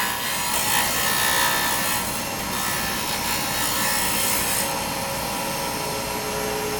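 A carbide turning tool cuts a copper kit pen spinning on a lathe, giving a steady, loud scraping and rasping hiss. The sound runs continuously throughout with only slight swells in intensity.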